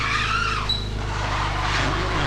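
A Kia Stinger GT with Brembo brakes stops hard, tires squealing and skidding briefly over a loud, steady road and engine roar, heard up close with no talking.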